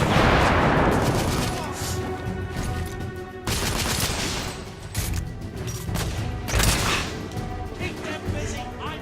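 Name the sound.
grenade explosion and gunfire in video game The Order: 1886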